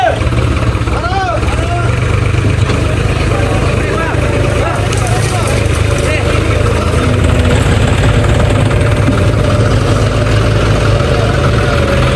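A tractor engine idles close by with steady low rumbling vibration throughout, while people talk over it.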